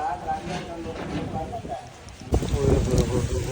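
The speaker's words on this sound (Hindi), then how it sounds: "अच्छी खासी बारिश आ गई" Heavy rain falls outdoors as a dense, steady hiss that grows louder partway through, under someone speaking.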